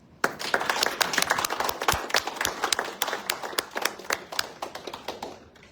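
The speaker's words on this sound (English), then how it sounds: "Once again, a warm round of applause." Audience at a pop-up art exhibit and fashion show at the Philippine Consulate bursts into applause, sharp close hand claps building quickly then thinning out toward the end.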